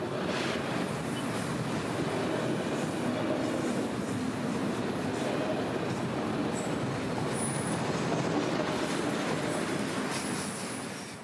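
A freight train hauling coal and autoracks rolls past close by on the S Line in Central Florida, a loud continuous roar of wheels and rail noise with a few faint squeals, fading slightly at the end.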